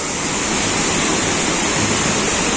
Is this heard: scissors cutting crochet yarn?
no